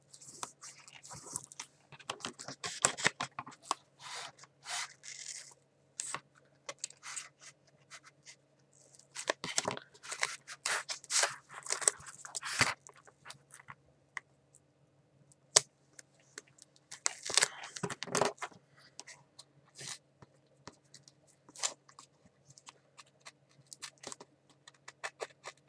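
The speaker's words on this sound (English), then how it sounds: "Then I'm going to go cut all my excess off." Scissors or a paper trimmer cutting excess paper from a handmade card and envelope mini album, a crafting project: repeated crisp snips and rustles in irregular bursts, close and fairly quiet, with short pauses between.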